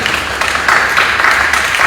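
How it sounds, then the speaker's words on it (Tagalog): Church congregation applauding during a healing service, a short burst of steady clapping at moderate volume with a faint voice underneath. "purihin po natin at palakpakan ang ating dakilang Yahweh na sundalo."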